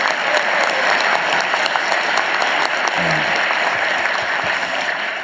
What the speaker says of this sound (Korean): 박수라도 한번 주십시오.